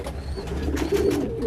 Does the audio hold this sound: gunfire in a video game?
no